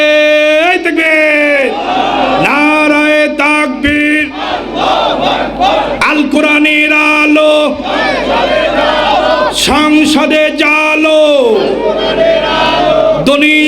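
A large crowd at an Islamic gathering loudly chants Allahu Akbar in unison after the takbir call, repeated rhythmic group shouts with strong sustained voices filling the clip, punctuated by brief pauses between chants.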